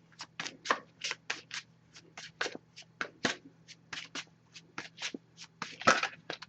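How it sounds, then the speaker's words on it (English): A deck of oracle cards is shuffled by hand, a rapid series of crisp riffling and slapping sounds in an irregular rhythm, close and fairly quiet. "I'm just going to give this a few shuffles"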